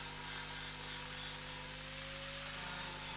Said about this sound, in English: Using the flap wheel then to clean up where the stitch welds were